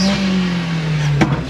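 A 365bhp Edition 35 car engine revs loudly and close, a steady strained drone holding for over a second before a brief sharp burst near the end.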